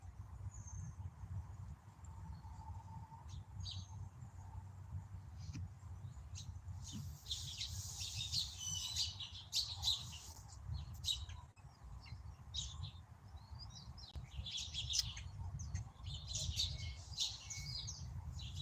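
Faint birds chirp and tweet in scattered bursts outdoors over a low steady rumble of background noise, with occasional insect-like buzzing.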